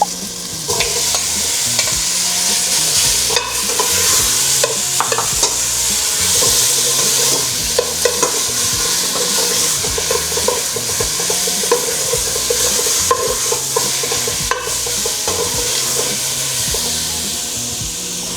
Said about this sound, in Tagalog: Add na rin natin yung ating beef guys.